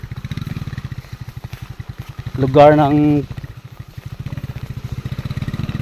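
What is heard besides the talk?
motorcycle being driven on a farm trail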